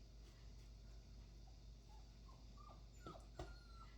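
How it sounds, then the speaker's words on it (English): Small Yorkie puppy whimpering outside an open window at the door, a few thin, rising whines and yips heard faintly at a distance over a steady background hum. "you'll probably get to hear the puppy at the door wanting to come in"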